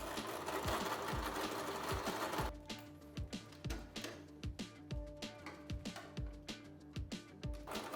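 A sewing machine stitches harness webbing for a front D-ring attachment, first a continuous close rapid run, then shorter stop-start bursts of rhythmic needle thumping as the stitching line is worked back and forth.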